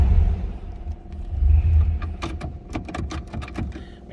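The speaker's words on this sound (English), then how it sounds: "You gotta love the sound of a flatty." A 1940 Ford flathead V8 in a Standard 5-Window Coupe idling with a low steady rumble and swells in revs, overlaid by a run of rapid ticking clicks.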